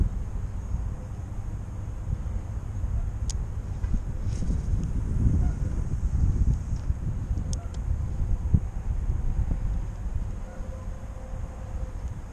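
Steady wind blowing outdoors during winter bass fishing, a continuous low rushing roar with some buffeting on the microphone throughout, no talk.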